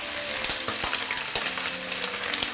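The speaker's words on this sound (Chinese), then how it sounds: "煎的时候我们调到这种中火，火不要太大，慢慢去煎它" Food pan-frying over medium heat in a home kitchen, a steady close sizzle with a few sharp spatter pops and light clinks scattered through, no talking.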